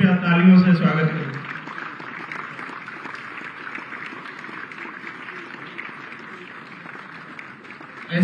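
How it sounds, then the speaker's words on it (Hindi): An audience at a Lucknow institution's ceremony applauds as guests come on stage for a release, with steady, dense clapping that lasts several seconds after a voice speaks briefly at the start. "कृपया तालियों से स्वागत करें।"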